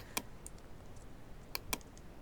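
A few keyboard keys are pressed for shortcuts on a computer: a handful of faint, sharp clicks, one early and two close together near the end, over quiet room noise.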